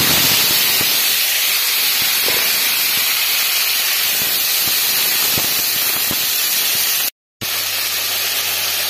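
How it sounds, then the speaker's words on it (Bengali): Potatoes fry in hot oil in a kadai with five-spice seeds, making a loud, continuous hissing sizzle broken by faint ticks and a brief cut near the end. "আলুগুলোকে ছেড়ে দেব।"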